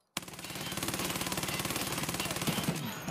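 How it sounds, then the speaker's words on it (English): Sustained automatic gunfire in the video game Escape from Tarkov comes as one continuous rapid burst of evenly spaced shots, loud and close, lasting about three seconds with no talking. "I think I shot you."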